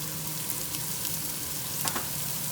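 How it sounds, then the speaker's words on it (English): Small-diced white onion and leeks sweat in a pan for a rabbit ragu, giving an even, close sizzle with a couple of faint stirring scrapes and no voices. "What you're looking to do here is you're looking to sweat all the vegetables"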